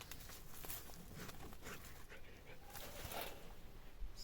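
A dog whimpers softly in short, thin whines amid rustling and heavy breathing, faint and close, with no one speaking.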